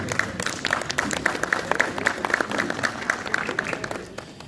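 A crowd at a cricket league opening ceremony claps in a lively, uneven patter of individual hand claps, moderately close, fading slightly toward the end.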